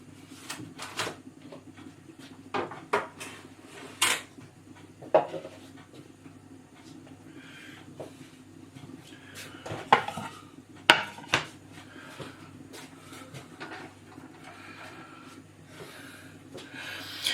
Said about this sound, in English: we're going to cut the butter up